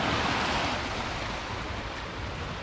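Rough, heavy sea surf churning on a dark ocean, a steady broad wash of crashing water that eases slightly after the first moment, with no voices.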